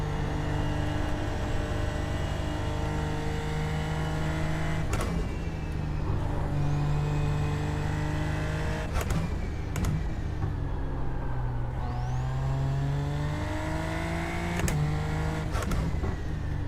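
Racing car engine in a racing video game, loud and continuous, with repeated revs rising and falling through gear changes and sharp shift transients over a steady low drone.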